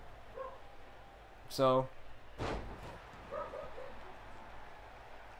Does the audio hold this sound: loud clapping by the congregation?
no